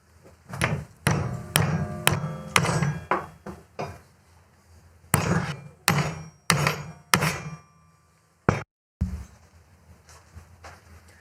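Repeated hammer blows on steel bars clamped in a vise, bent down for DR650 pannier racks; loud metallic strikes in two bursts of quick rhythmic hits, close and without talk.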